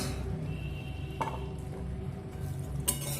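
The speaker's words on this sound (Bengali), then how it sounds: "এবার আমি এখানে দিয়ে দেব আগে থেকে ভেজে রাখা বেগুন কুমড়ো আর মাছ" Previously fried eggplant, pumpkin and fish go into a pan, followed by quiet stirring: soft scrapes and a few light knocks over a low, faint sizzle.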